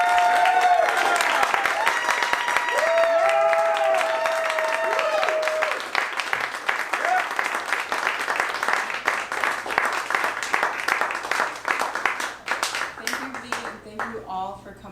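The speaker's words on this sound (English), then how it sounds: "the Tornadoes provided our guests with a very warm Midwestern applause for Trina and Arun." Warm applause from the audience at a string concert in St. Louis, loud and dense at first and then thinning into looser, scattered claps, with a faint voice and a brief musical tone near the start.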